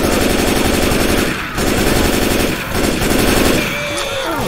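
Rapid automatic rifle fire in the zombie shooter Left 4 Dead 2: loud, dense bursts of shots crackle almost continuously with brief gaps, a few trailing ricochet-like whines near the end.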